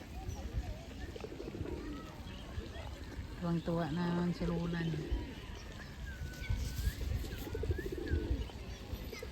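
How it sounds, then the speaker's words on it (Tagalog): Soft pigeon cooing sits in the background of an outdoor scene, with people talking nearby and general ambient noise throughout. "kalapati oh"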